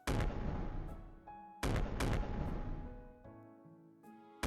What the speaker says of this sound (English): A succession of fireworks mingle together, and occasionally a big one rises up to the heavens, bathing Okacho in its light.